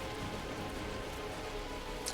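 Venomous rain spell effect in World of Warcraft: The War Within, a steady, even hiss of falling rain that holds at the same level throughout, with no talking over it.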